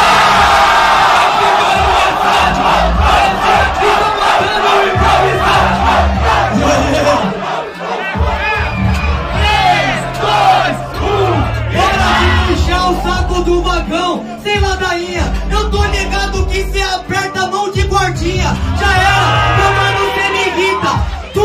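Crowd at a rap battle roars with loud cheering, whoops and shouts that continue steadily throughout, mixed with yelling voices close by.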